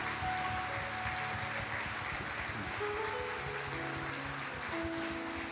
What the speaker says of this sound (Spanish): Centro de Esperanza te regala este aplauso de amor,